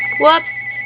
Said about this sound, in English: That's my phone. I'm not answering it.